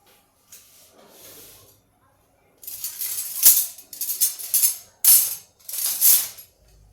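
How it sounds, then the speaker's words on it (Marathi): Oil poured onto vegetables (val papdi beans) in a hot pan, giving several loud, bright hissing sizzle bursts after a quiet start, each swelling and fading close by. "आता या भाजीमध्ये थोडंसं तेल टाकते"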